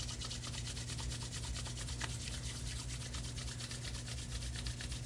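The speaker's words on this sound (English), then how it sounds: "Rub your hands together until they're nice and warm." Hands rubbing together briskly and continuously for warmth during a meditation exercise, a steady close, soft swishing friction with no talk.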